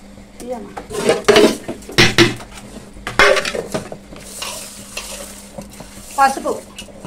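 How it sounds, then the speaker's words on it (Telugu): Goat trotters are scrubbed and washed with turmeric in a metal pot, giving wet, rubbing and sloshing scrapes with sharp knocks against the vessel in uneven bursts, close by. "ఈసారి కొంచెం పసుపు కూడా వేసుకొని రుద్దుకున్నాం"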